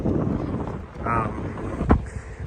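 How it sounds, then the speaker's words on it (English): Wind buffets an outdoor microphone in gusts, a low rumbling roar with sharp bumps, while someone talks over it. "It's kind of windy right now."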